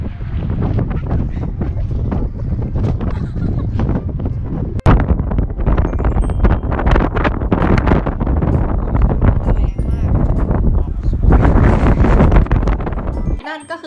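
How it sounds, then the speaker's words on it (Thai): Strong wind at the Golden Gate viewpoint in San Francisco batters the microphone in loud, gusting roars that rise and fall throughout, briefly cut once midway, with no clear voices. "ลมแรงมาก เดี๋ยวจะให้ฟังเสียงของลม"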